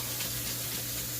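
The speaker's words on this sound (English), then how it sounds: "cool your bristles back off with some cool water" Cool tap water runs steadily into a sink to rinse makeup brushes, making a constant close splashing hiss with no pauses and no voices.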